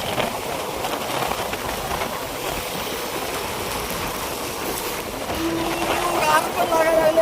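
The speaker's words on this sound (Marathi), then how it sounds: "तिथं चांगला पाऊस चालू झालेला आहे आता" Steady rain near Lonavala in the monsoon makes a constant broad wash of noise, blended with traffic or rail rumble, while a voice talks briefly toward the end.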